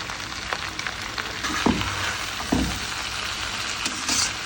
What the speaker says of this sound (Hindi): मैं इसमें 2 बड़े टमाटर डाल रही हूँ।